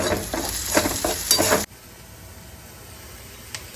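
Food stirred and frying in a pan with salt added, a loud close sizzle with scraping stir strokes that cuts off abruptly partway, leaving a quiet background hiss.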